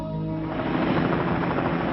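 A helicopter flies nearby, giving a loud, continuous whooshing roar with a faint rhythmic blade pulse and no voices.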